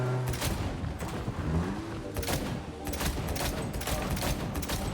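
Rapid gunfire from the video game Cyberpunk 2077: Phantom Liberty, a dense, loud fusillade of shots and impacts that runs for the full stretch with little pause and no talk over it.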